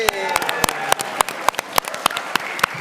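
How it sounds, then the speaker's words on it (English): An audience claps at a live comedy game-show event, a sparse scattering of individual claps with sharp separate hits rather than a dense roar, fairly close and short-lived. "Well, everyone clapped"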